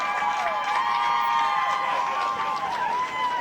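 A football crowd at Worcester State cheers loudly and continuously against Mass Maritime, a sustained wash of shouting voices with rising and falling yells layered over one another.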